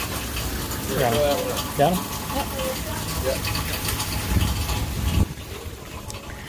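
Water gushing steadily into jugs from a pump or tap, a continuous rushing flow heard close up beneath a voice talking intermittently.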